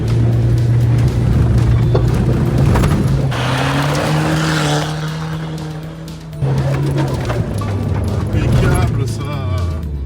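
A Peugeot 406 Safari rally car revs hard, its engine note rising and holding loud and close as it drops over a hole in the road, with a brief dip before the throttle opens again; voices talk over it.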